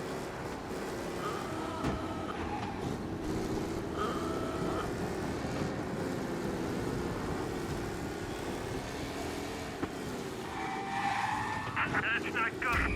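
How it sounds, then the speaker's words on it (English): A damaged race car in the video game Mafia Definitive Edition, its engine droning roughly with tyre skids and squeals as it is pushed, someone talking over the continuous vehicle noise. "If I push the car a little bit more. Even the sound of the car is not where it used to be."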